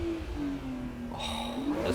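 In the Assetto Corsa Evo racing game, a BMW E46 M3 with its S54 engine revs with a sustained, fairly faint drone that sags and then rises again, joined by a brief higher whine near the end, with no talk.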